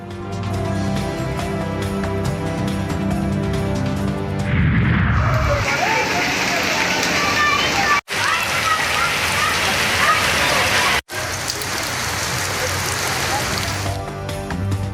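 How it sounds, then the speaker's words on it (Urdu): Heavy downpour of monsoon rain lashes a flooded Karachi street, a dense roaring hiss of drops with sloshing water, loud and constant after a brief stretch of other sound at the start. "جامشور و میرپور خاص میں موسلادھار بارش"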